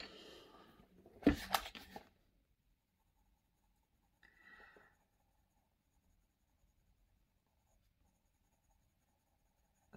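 Coloured pencils scratch across the paper of a colouring book of hearts: a busy burst of scribbling strokes at the start, then a short, quieter stretch of colouring, with near silence between.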